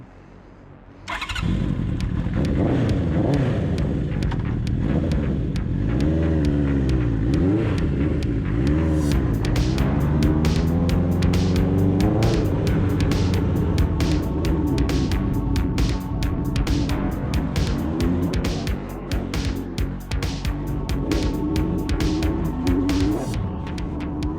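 A Honda CB750 motorcycle being built into a streetfighter starts up and runs loud and close, its engine rumbling and revving repeatedly with rising and falling pitch, then settling into a rapid, rattling high idle for the rest of the clip.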